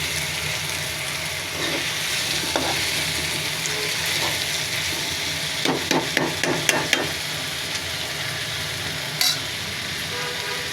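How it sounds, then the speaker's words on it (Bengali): Chicken fries with spices and radish, a steady close sizzle under repeated clattering knocks of a spatula against the pan, with a quick run of strikes midway and no talk. "এভাবে একটু ভাজা করে নেবেন মাংসের সাথে,"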